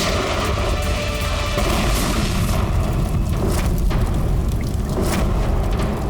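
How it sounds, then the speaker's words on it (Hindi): A booby-trap bomb goes off in a TV crime drama scene, a loud, dense roaring blast that rumbles on without a break from start to finish. "जैसे बैग से ये नोट बाहर गिरे, बॉम्ब ट्रिगर हो गया।"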